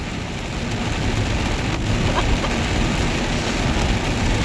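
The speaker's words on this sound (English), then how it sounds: "It's raining in the storm." Rain in a storm falls as a loud, steady wash of noise with a low rumbling roar underneath, continuous throughout with no voices.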